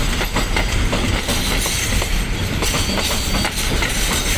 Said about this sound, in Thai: ก็จะเป็นรถคอนเทนเนอร์ขนาด 40 ฟุตทั้งขบวนครับ